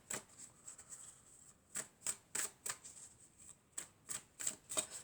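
Tarot cards shuffled by hand: a quiet, close series of crisp riffling snaps in quick irregular bursts, with no talk over them.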